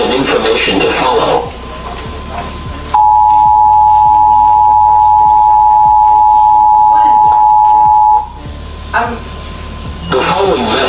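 A loud, steady emergency alert broadcast tone holds for about five seconds, and a broadcast voice speaks before and after it.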